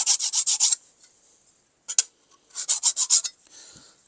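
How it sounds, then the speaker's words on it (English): Sharpening stone rubbed over the edge of a steel card scraper to take off the burr: two bursts of quick back-and-forth rasping strokes, five or six each, with a single stroke between and a faint scrape at the end, close and clear. "just run it over the surface just to take a little bit of that burr off."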